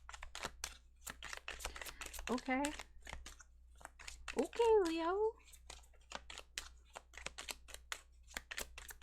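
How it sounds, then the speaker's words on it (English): Tarot cards being shuffled in a quiet room, a rapid series of soft dry riffling snaps and slides, with someone speaking briefly in the middle. "Getting tired of shuffling here."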